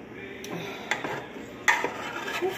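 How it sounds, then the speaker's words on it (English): A spoon stirs and scrapes food in a dish while a protein dish is being prepared, with a few sharp clinks against the dish over a low, steady background. "I am going to use a spoon"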